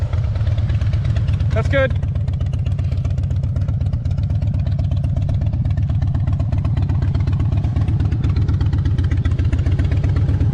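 A previously abandoned Harley motorcycle idles close by with a steady, loud, low rumble that lasts the whole time, while a person briefly speaks over it.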